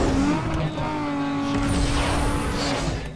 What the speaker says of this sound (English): This game really nailed the engine sounds.